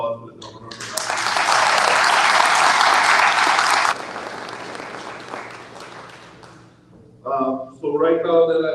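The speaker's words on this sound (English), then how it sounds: "So can we have a round of applause for the governor for that?" An audience at a North Side community meeting applauds the governor, a loud burst of clapping that swells quickly, holds for a few seconds, then thins out and fades before a voice starts talking.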